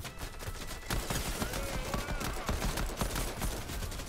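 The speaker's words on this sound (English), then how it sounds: "I'm getting shot at." Gunfire in the Fortnite video game during a heist mission, heard as a steady stretch of rapid, crackling shots at moderate loudness with no pauses.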